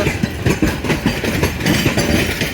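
A train engine pulls a long line of roughly fifty battered railway wagons, giving a steady, close rumble with a regular clickety-clack of wheels and no voices.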